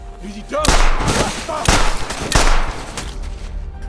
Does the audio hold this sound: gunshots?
yes